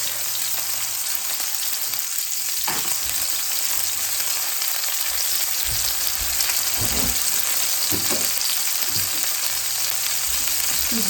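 Food frying in a pan for a copycat Steak 'n Shake Frisco patty melt, a steady loud sizzle and crackle with occasional soft clinks and stirring knocks underneath.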